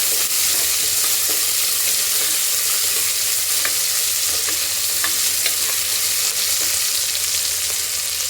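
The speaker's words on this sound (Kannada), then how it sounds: "ಈರುಳ್ಳಿ, ಹಸಿರು ಮೆಣಸಿನ್ಕಾಯಿ ಸ್ವಲ್ಪ ಗೋಲ್ಡನ್ ಕಲರ್ ಬರೋವರೆಗೂ ಫ್ರೈ ಮಾಡ್ಕೋಬೇಕು." Chopped onion and green chillies frying in a pan until golden, a steady, even sizzle with faint crackles, close and continuous, with no talking.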